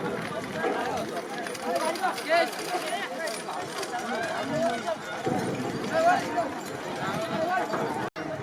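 Bullock carts and horses race at a village fair, hooves pounding in a rapid rolling patter beneath loud crowd chatter and shouting throughout.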